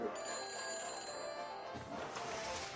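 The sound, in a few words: phone ringing after dialing, Back to the Future video game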